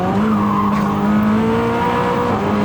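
A Koenigsegg Jesko pulls hard out of a corner on turbo boost, its engine howl rising in pitch in a loud, sustained, continuous tone, heard from onboard without voices.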